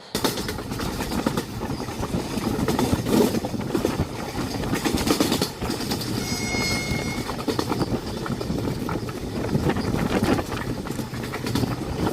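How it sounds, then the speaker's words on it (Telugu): Passenger train on the Hyderabad to Vasco da Gama route crossing another train on the adjacent track, heard as a steady loud rumble with rapid clickety-clack of wheels and a brief high siren, close by throughout. "ట్రైన్ క్రాస్ చేస్తుంటే ఎలా చాలా భయం అనిపిస్తుంది నాకు సూపర్గా ఉంది ఆ సౌండ్ ఆ సైరన్ మామూలుగా లేదు"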